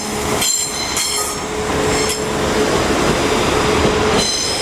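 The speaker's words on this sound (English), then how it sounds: "There is 195114 with a service to Blackpool North" Class 195 diesel multiple unit 195114 runs through Leeds station on a Blackpool North service, a steady loud rumble of wheels and engine with brief squealing wheel tones and rail clatter, no voices.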